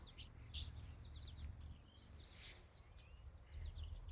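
Small birds call outdoors near an apartment block in summer. Quick, high chirps and short tweets come in scattered bursts, faint and fairly distant, over a soft background hum.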